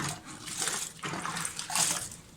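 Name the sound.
tap water running while washing food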